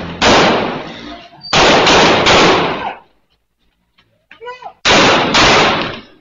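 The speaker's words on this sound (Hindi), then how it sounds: "शहरी ने भी पिस्तौल निकाला और डाकुओं पर गोलियां चला दी।" Loud pistol shots ring out in harsh bursts during a street shootout with robbers in North Karachi, two close together, then a pause with a brief voice before another blast.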